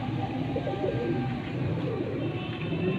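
Domestic pigeons on a rooftop loft coo continuously in soft, throaty murmurs, close by and overlapping, over a steady outdoor background.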